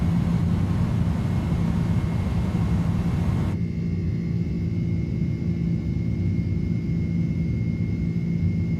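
An iniBuilds A310 airliner departing Dubai in Microsoft Flight Simulator gives a steady, loud engine roar and rumble throughout, with the high hiss suddenly cutting off partway while the low drone continues.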